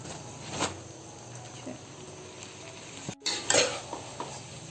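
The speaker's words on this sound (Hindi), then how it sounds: "अब हम इसमें चावलों को शामिल करेंगे।" Boiled rice being mixed into jaggery syrup in a cooking pot. A quiet simmering bubble carries a few scattered scrapes and clinks of a spoon against the pot, growing louder toward the end.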